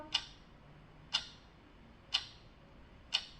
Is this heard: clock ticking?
yes